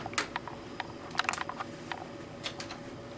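A computer mouse double-clicking: quiet, crisp paired clicks heard close up, with a few other light taps around them.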